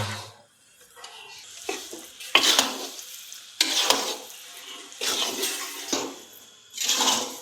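Stirring in a pan of ghee while making adadiya sweets for Maha Shivratri, with repeated scraping, sizzling bursts and brief pauses, close and moderately loud, with no talking.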